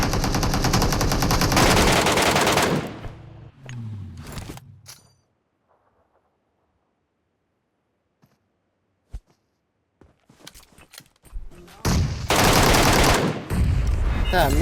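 An MK rifle fires in a PUBG Mobile solo ranked match: loud rapid bursts of gunfire open the stretch, a near-silent pause follows with a few isolated shots, then heavy automatic fire returns at the end.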